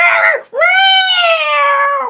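A narrator's voice imitates a screaming cat with two shrill, wailing cries, a short one followed by a longer, drawn-out howl, close and loud.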